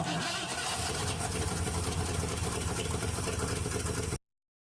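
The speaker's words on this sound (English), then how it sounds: "Listen to how this engine cranks." A car engine cranks and sputters steadily for several seconds, loud and close, then cuts off abruptly to silence.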